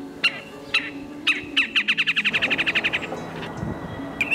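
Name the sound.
birds calling in Central Park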